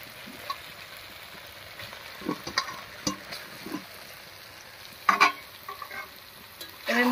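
Washed, drained chicken pieces tipped into a hot pan of spices for a village-style chicken curry, frying with a crackling sizzle, scattered by repeated scraping and stirring knocks that grow louder toward the end.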